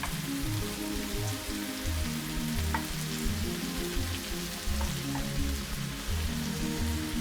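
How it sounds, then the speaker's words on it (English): Onions braising in a pan while preparing sweet and savoury phyllo cups, a steady close sizzle and crackle with soft spitting pops running evenly throughout, no talking. "Let's wait for your onions to braise a bit"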